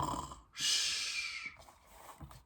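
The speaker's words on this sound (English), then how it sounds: "Then he heard snoring coming from under the covers." A single snore, a noisy rasping breath that swells and fades, close and soft, with quiet breathing around it.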